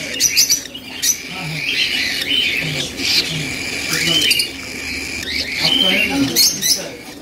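Pet birds for sale in a Jeddah bird market keep up a dense, steady twittering and chirping nearby, with bursts of sharper calls and faint voices mixed in.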